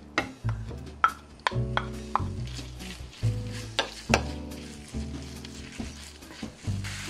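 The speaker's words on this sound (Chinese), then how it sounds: "同时我们煸炒一点点碎猪肉，放少少油" Minced pork stir-fried in a little oil over high heat gives a soft sizzle, broken by repeated clanking spatula strikes and scrapes against the wok at an uneven rhythm.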